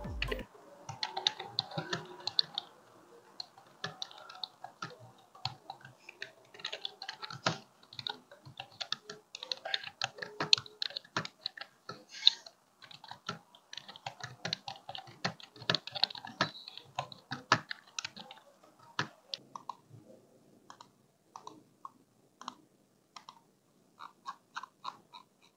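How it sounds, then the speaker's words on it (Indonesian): Rapid, uneven key clicks and taps from a Xiaomi Wireless Keyboard and Mouse 2, close and crisp, continuing for a long stretch before thinning out into sparse clicks. "untuk suara klik dari keyboardnya dan mouse-nya bisa kalian dengarkan sendiri ya"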